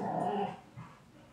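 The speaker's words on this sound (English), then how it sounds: "my dogs are playing in the background, and Jackson plays really loud" Pet dogs play in the background indoors, giving a brief burst of low growling and whimpering yips, followed by a fainter second growl.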